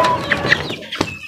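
Hens cluck in a few short, close calls amid a busy farmyard background, with a brief sharp sound near the end.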